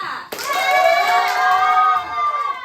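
Children in a church kids' class clap together for a correct answer, a sustained burst of applause mixed with a long cheering voice, swelling after a sharp onset and fading near the end.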